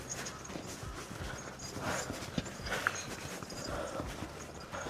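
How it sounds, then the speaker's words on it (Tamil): Horse hooves clip-clop along a mountain valley trail in Kashmir during winter, soft irregular thuds and knocks at a moderate distance beneath wind and rustling, with no voices. "குதிரை வந்து வழி மாறி போயிடுச்சு போல."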